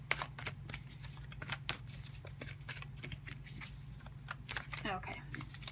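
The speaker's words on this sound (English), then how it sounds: "Otherwise, I could be here forever trying to shuffle." Tarot cards shuffled by hand, a steady run of soft riffling and flicking under a constant low hum, with a few sharper slaps of cards, close and fairly quiet throughout.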